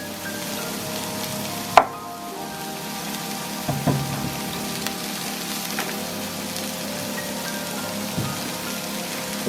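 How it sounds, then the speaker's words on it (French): Onions fry in a pan for a chicken and sweet potato curry, giving a continuous crackling sizzle with a few sharp clicks and knocks, likely utensils against the pan. "vous pouvez mettre les oignons. C'est cuire 2 minutes de plus."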